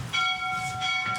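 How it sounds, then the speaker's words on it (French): A real church bell rings in a lakeside chapel, one sustained metallic toll with a long humming resonance and a second swell near the end, fairly close with some background hiss. "c'est une vraie cloche, la vraie cloche de l'église"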